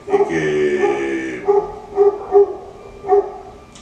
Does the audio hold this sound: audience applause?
no